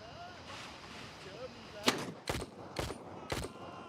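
Gunfire in Gray Zone Warfare: four sharp gunshots ring out in an uneven sequence over a low outdoor ambience, moderately close, with faint rustling before them.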